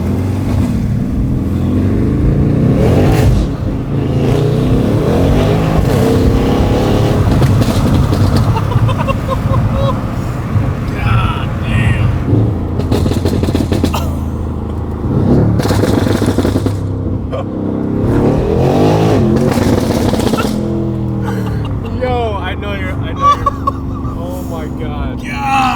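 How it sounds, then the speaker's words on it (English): A BMW M2 revs repeatedly, its engine surging and falling with loud exhaust pops and crackles, while voices talk excitedly over the close, sustained noise. "Like the pops are loud, but they're not, I don't know, it's like AMG pops."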